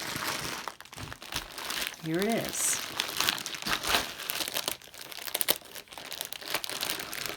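A plastic bag holding thrifted jewelry crinkles and rustles while being handled and opened, irregular close crackles running under a person's quiet talk.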